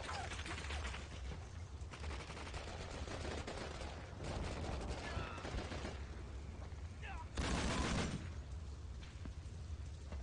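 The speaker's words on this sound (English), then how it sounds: "Who's shooting at me now?" Video game gunfire crackles in scattered bursts and fusillades through a dense, noisy battle mix, with a loud swell near the end, while a voice talks over it.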